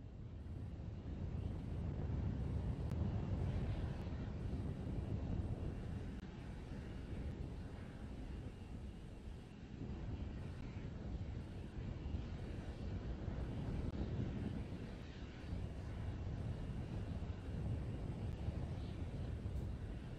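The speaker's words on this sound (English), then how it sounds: "We've got the views back from the Raptor engines." SpaceX Starship Raptor rocket engines during flight, a steady, heavy low roar with broadband rumble that holds for about twenty seconds, alone and without talk.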